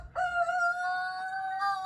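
A rooster crows once in a long, sustained cock-a-doodle-doo, loud and fairly close, alone with no talk.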